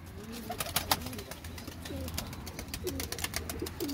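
A turtle dove coos in soft, low, repeated phrases at moderate distance, with scattered sharp clicks and knocks around it and no speech.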